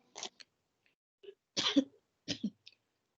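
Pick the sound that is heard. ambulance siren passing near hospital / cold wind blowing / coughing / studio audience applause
coughing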